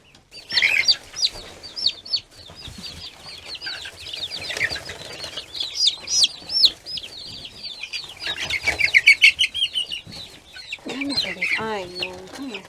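Excited chickens being caught cluck and squawk nearby, with bursts of wing flapping and scuffling, while a person speaks at times.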